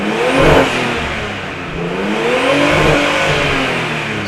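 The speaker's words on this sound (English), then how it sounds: "So we can rev it up a bit" A Nissan RB25 engine revs up loud and close during ECU tuning, climbing in pitch, easing back, then rising again in a second smooth rev with no talk over it.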